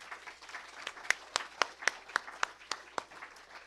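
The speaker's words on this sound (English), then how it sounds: "Please give them all a big round of applause." Scattered applause from a small audience at a history café talk, honouring the volunteers, with a dozen or so distinct claps standing out over soft background patter, fairly close and without speech.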